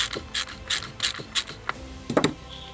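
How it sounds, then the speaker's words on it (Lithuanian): A motorcycle front fork's top bolt being unscrewed, giving a run of repeated ratchet-like clicks and metallic rasps in short bursts, fairly close, ending in a louder grinding turn. "Nu va, atsilaisvinau viršutinį varžtą. Tai reik pilna išsisukti."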